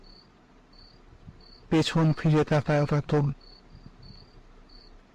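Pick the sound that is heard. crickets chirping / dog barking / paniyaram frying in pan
crickets chirping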